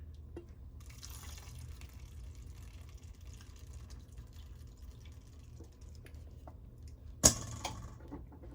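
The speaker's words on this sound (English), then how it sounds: "Just drain out as much of the liquid as you can." Liquid drains from homemade quark as a faint, steady, quiet trickle and drip, with one brief louder clatter near the end.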